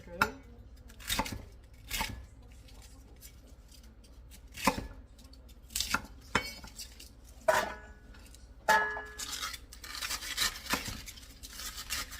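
Vegetables, cabbage among them, are knife-chopped into squares for pickles on a cutting board, with sharp irregular chops separated by pauses, close and fairly loud.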